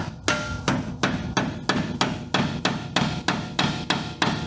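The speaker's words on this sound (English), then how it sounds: "I managed to just beat both the shock and the bushing onto this post" A shock absorber and bushing are driven onto a mounting post on a 3rd gen Toyota 4Runner with eleven evenly spaced, sharp metallic hammer blows, close and loud, with no speech.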